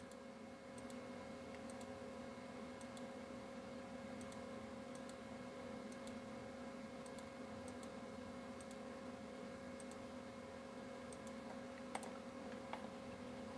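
A computer mouse clicks in quiet, evenly spaced single taps over a steady electronic hum while line-tool points are placed in micromill software for sampling otoliths; faint and close, with no speech.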